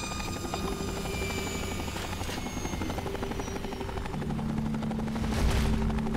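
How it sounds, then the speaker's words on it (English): Vertibird from Fallout New Vegas comes down near a van in the game, its rotors chopping steadily and loudly throughout, the whine and thump swelling slightly toward the end as it settles. "You parked the Vertibird on top of that van."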